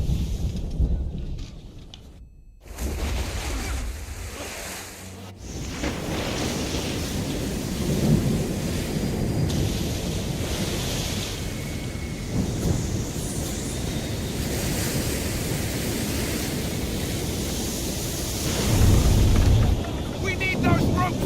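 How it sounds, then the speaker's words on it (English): A thunderstorm at sea in Assassin's Creed III, with crashing waves, rain and wind roaring continuously, sharp thunder cracks early on and a heavy surge near the end, and voices shouting over the storm. "You wish us to sail into the storm?"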